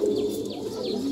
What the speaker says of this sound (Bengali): এই কবুতরটা আমার একটা ময়না জাতের কবুতর